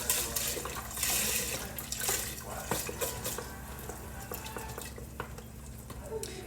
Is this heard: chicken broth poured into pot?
yes